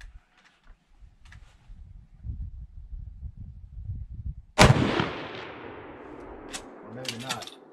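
A single loud shot from a Lee-Enfield No.5 Mk1 jungle carbine in .303 British cracks out midway, following low rumbling and handling noise and trailing off with a decaying echo outdoors.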